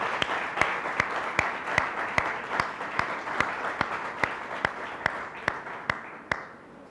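A church congregation claps loudly in a steady, even rhythm during a Sunday pastoral service, with sharp, evenly spaced beats that carry on throughout.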